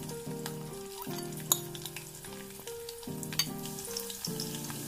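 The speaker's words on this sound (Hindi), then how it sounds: "ऑयल को गर्म कर लिया थोड़ा थोड़ा, इसमें हम ये लहसुन को शामिल कर लेंगे।" Chopped garlic hits hot oil for a masoor moong dal, giving a steady close sizzle that runs under a looping musical backing with occasional light clinks.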